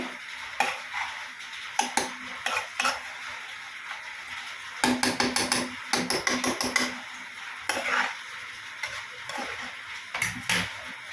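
Mushroom curry being stirred round in a pan with a utensil, a series of close scraping and clinking strokes coming in bursts with short pauses between them, no talking.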